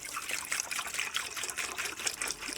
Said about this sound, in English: I'm going to fill my little friend with spring water